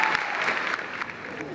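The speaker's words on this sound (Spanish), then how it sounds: "Pido para ellos un fuerte aplauso" Audience applause at an international astronomy colloquium round-table, a dense wash of clapping that holds steady and then starts to thin out, fairly loud and close, with some murmur mixed in.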